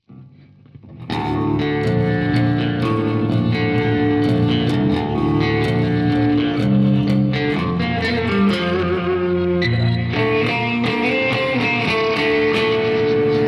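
Electric guitar through a Tone Master Pro drenched in reverb, thick sustained chords and notes washing together continuously, loud and steady throughout.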